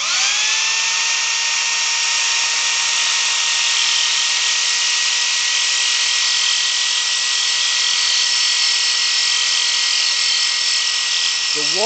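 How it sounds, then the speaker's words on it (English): A loud, shrill drill grinds continuously into a water-cooled glass wine bottle in a straight cut, at an unchanging pitch, with a brief dip and wobble right at the end. "Now you do a straight cut. Again, using no more than the pressure of the drill."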